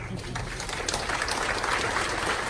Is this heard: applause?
yes